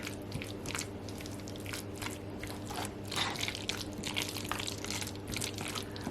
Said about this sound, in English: So I'm gonna add my mayo and then I'm just going to gently stir this up.